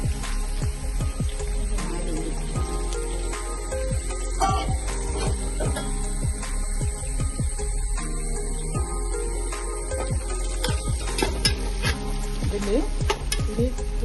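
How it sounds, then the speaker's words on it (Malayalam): Onions sauté in coconut oil in a pan for biriyani, with a steady sizzle and frequent rhythmic scraping strokes of a spoon stirring close by throughout. "ഈ വെളിച്ചെണ്ണ മതി ഉള്ളി വഴറ്റാൻ തുടങ്ങിയാണ്"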